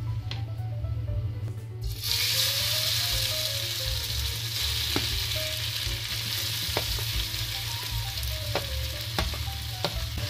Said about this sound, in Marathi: तुपामध्ये 5 मिनिटं आपण ही कैरी छान अशी परतून घेणार आहोत